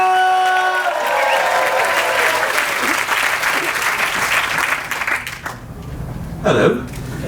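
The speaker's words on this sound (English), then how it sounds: "make some noise for your next act, Benji Waterstones!" A comedy competition crowd applauds and cheers for the next act, loud sustained clapping with whoops that begins to fade toward the end, and a voice briefly heard over it.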